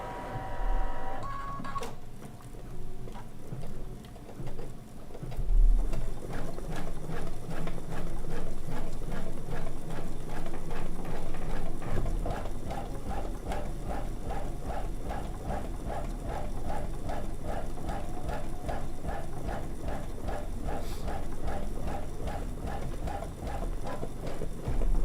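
An embroidery machine stitches steadily, basting quilt layers held in a hoop, with a fast, even mechanical tapping and hum that runs on for a long stretch.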